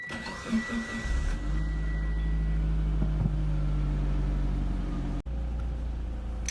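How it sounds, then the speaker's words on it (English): A car engine idles with a steady low rumble and hum, starting after a brief rustle and continuing evenly with a short dip near the end. "Okay, the car is now warmed up."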